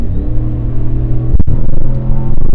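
A Ram 1500 with a Borla S-Type exhaust on a full-throttle pull: a loud, close, continuous exhaust drone with a deep rumble and rising harmonics, briefly broken by a shift-like hiccup.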